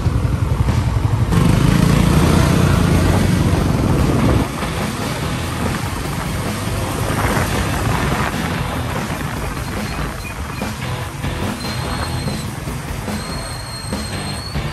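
A Honda Click V3 scooter with a freshly cleaned CVT runs with a loud, steady engine drone close to the microphone. It is slightly louder at first, then settles into an even hum, with no talking.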